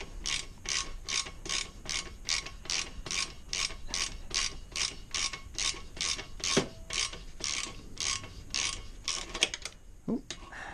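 A ratchet tightens a bolt on a GPR exhaust fitted to a Suzuki RV125 VanVan, a close run of about twenty even, rhythmic clicking strokes ending in a few quicker clacks.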